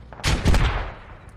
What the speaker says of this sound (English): BMP is still hammering him. Just firing into the woods.